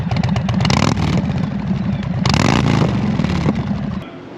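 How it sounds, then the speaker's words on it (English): Loud motorcycle fitted with a Freedom Performance exhaust, revving hard in two bursts with a deep rumbling roar and a brief dip between, close and loud, with no talk over it. "Freedom Performance exhaust."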